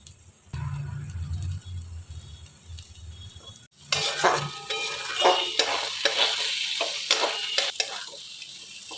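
Lote fish (Bombay duck) stirred and frying with coriander leaves: a faint low sizzle at first, then a sudden louder crackling fry with scraping stirs and occasional utensil clinks against the pan.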